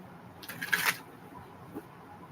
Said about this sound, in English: Last shuffle, Erica